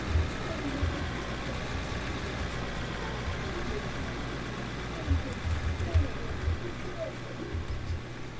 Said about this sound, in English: I've never realized how much I've missed the sound of a diesel engine